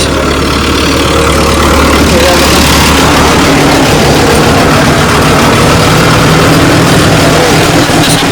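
A tractor engine runs with its rotor attachment spinning while out of gear, making a loud, constant, close-up drone with a heavy low rumble and dense mechanical clatter throughout.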